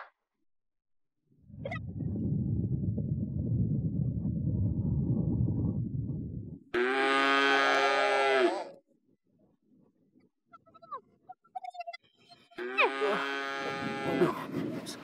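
Cattle in a cow barn, a long low rumbling moo followed by two loud, drawn-out, tonal bellows separated by a quiet gap with faint scattered noises, close to the microphone.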